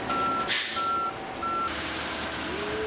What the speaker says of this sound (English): Finally, our first concrete truck arrived and we were ready to start pouring.